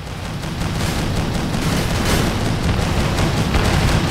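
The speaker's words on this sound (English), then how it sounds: "What is still shooting at me down here? Looks like a bunch of anti-air." Continuous rumbling combat in the video game Rogue Aces on PS4: rapid bursts of anti-aircraft fire blending with booming explosions, loud and sustained throughout.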